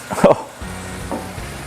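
Cajun chicken pasta sauce made with heavy whipping cream cooks in a pan: a short clatter of stirring, then a low, steady simmering sizzle.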